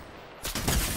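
A sudden loud burst of Fortnite gunfire, sharp blasts in quick succession, breaking in abruptly after a brief quieter moment.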